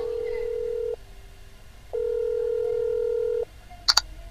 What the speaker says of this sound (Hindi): श्वेता मदद के लिए आदित्य को कॉल करती है।